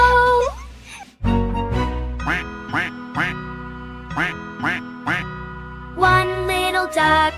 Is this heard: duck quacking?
yes